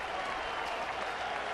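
Baseball crowd at an Arizona ballpark applauding pitcher Ian Kennedy, a steady wash of distant clapping and cheering from the stands, fairly faint and even throughout.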